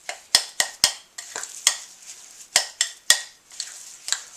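Spice mix being stirred into tamale dough in a bowl, with close, irregular scraping and clinking strokes of a utensil, some sharp knocks between softer mushy swishes.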